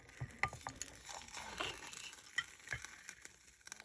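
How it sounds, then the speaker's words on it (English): Hot sublimation paper on a mug fresh from a Cricut mug press sizzles and crackles faintly and close, with irregular little pops and ticks like frying food. "Listen to the sizzle, man."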